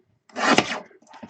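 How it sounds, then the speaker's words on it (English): A small paper trimmer slices through card during handmade greeting card making, giving a single short close scraping cut. "all I'm doing is just using this little trimmer over here"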